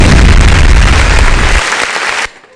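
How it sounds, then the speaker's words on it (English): An audience at a grammar school old boys' association convention gives a loud, dense round of applause for a chairman. The clapping fills the hall, then thins out and stops abruptly near the end. "A round of applause for Chalian Bade Alabi"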